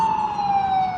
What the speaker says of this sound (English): that ambulance is loud